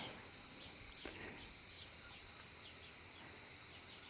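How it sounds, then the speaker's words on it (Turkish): Crickets chirp steadily through an outdoor morning scene, a dense, continuous high-pitched trill holding at an even level throughout, with no talking. "Cırcır böceklerin sesleriyle Hoşçakalın."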